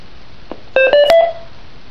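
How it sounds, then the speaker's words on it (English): Three short electronic tones from a Yaesu FT-1802M radio step upward in pitch, one after another, clean and close with nothing else around them. "You will hear the three tones rising in frequency"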